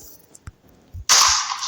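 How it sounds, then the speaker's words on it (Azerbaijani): A loud explosion bursts in a Minecraft session with the mutant creatures mod, after a few faint clicks and thumps, then a sustained roar of blast noise. "Belə ətraf partladır bu da."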